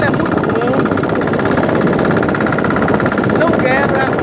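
A boat motor idles loud and close with a steady, continuous rumble and a faint mechanical whine, unbroken for the whole stretch, aboard a boat heading out for a day of free diving.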